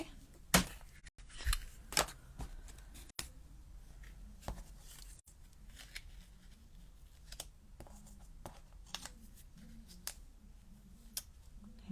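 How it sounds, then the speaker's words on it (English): Scissors snip through card stock at a craft desk, giving a scattered series of faint, sharp clicks and cuts at irregular intervals against a quiet background. "Some scissors."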